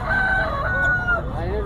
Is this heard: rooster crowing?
yes